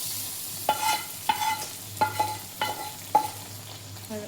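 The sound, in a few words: stirring frying chicken with a spatula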